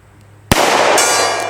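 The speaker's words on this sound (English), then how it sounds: "Why don't we see if we can hit the gong?" A single loud crack of a shot from a cheap revolver, followed at once by the bright ringing clang of the bullet striking a steel gong, the metallic tone sustaining and slowly decaying at an outdoor range.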